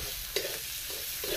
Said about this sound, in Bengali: পেঁয়াজগুলো একটু লাল লাল করে ভেজে নেব